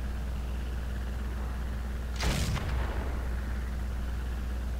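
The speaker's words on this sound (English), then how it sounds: "A big-ass cannon." A large plane-mounted cannon fires in a video game, one short heavy blast over a steady engine drone, with no talk.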